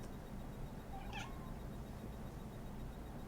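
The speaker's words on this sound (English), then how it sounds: "I don't know if you can hear my cat meowing" A house cat gives a single short meow, faint and somewhat distant, against a quiet room background with no talking.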